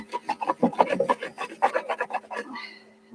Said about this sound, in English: So I'm just gonna keep rubbing